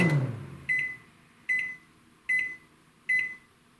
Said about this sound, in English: So that's what the beep sounds like when it's done cooking.